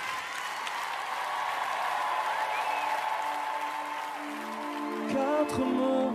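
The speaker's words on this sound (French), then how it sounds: "Merci de les applaudir." A TV audience applauds singers as a soft bed of crowd clapping. Sustained musical tones come in over it, growing stronger near the end as a piano begins.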